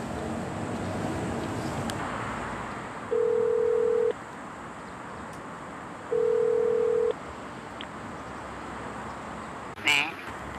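Telephone tone heard after the other party hangs up during a call from a broadcast news team: two steady one-second beeps about three seconds apart over a faint hiss, then a brief clatter near the end.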